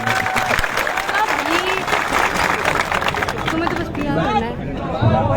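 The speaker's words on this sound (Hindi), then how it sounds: "एक बार जोरदार तालियां मुख्यमंत्री को।" A crowd of protesting students claps loudly for the Chief Minister, mixed with chatter and several voices talking over the applause throughout.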